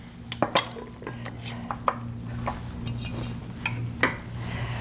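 A utensil stirs spinach powder into bread wrap dough in a bowl, giving scattered light clinks and scrapes against the dish over a faint steady kitchen hum.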